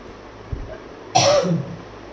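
A single harsh cough bursts out after a faint earlier tap, close and fairly loud, then fades into quiet room noise.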